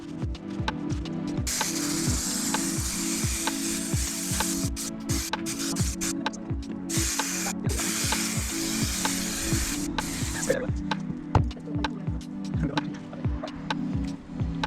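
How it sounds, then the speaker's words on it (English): Spray adhesive hisses from a can onto the top section of a Peugeot Expert campervan door, a close steady spray broken by brief pauses and bursts, with faint ticking clicks running underneath. "We started by spraying the top section of the door"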